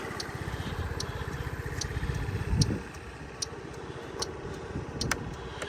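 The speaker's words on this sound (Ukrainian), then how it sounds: "Поворотнички працюють." Turn signals of a Honda Dio AF-68 scooter ticking in a steady rhythm, close and fairly quiet, with a low engine-like rumble underneath and a few sharper clicks.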